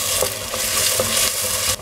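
Steady crackling sizzle of chopped potato and garlic sautéing in hot oil for cauliflower soup, with a few soft stirring clinks, continuous and close.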